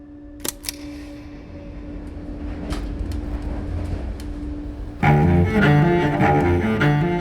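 A passenger train travels from Warsaw toward the Polish border, a low rumbling interior drone with a few clicks and knocks, swelling into louder tonal mechanical noise near the end, with no talk.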